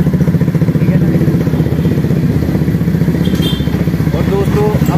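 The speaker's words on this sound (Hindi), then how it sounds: "ये जिसके ऊपर हम राइड कर रहे हैं स्टाइलिश वाली बाइक, वही है।" A stylish motorcycle is ridden with its engine close and loud, giving a steady, fast-pulsing thrum that holds at an even level throughout.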